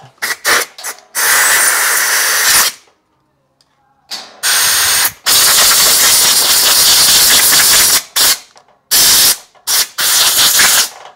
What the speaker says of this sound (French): donc là on va vaporiser du carburateur cleaner abondamment